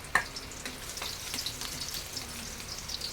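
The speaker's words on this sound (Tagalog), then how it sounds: "Yan, gisa-gisa na tayo. Yung bawang. Kasama pang balat." Unpeeled garlic cloves sauté in a pan for pancit miki bihon, giving a close, steady crackling fry with scattered pops and a sharp clack at the start. No one speaks.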